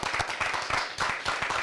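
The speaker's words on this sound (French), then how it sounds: "Applaudissements pour Nasser." An audience applauds at a television show taping, a dense continuous burst of clapping close by.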